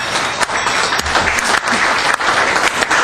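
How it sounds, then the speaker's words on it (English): A city council meeting audience claps for a few seconds, a dense, loud burst of many hands applauding at once with no pauses. "It's not often our announcements get applause, but we certainly warrant the applause."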